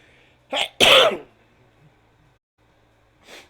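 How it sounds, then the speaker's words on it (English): A person sneezes sharply twice in quick succession, close and loud, followed after a pause by a softer breathy sniff or snort. "I'm sneezing a lot"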